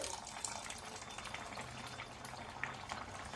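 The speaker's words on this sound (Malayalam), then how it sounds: "കുറച്ച് വെള്ളം ഒഴിച്ചിട്ട്" Water pours into a pressure cooker holding wheat kanji, a steady splashing hiss that runs unbroken for a few seconds at close range.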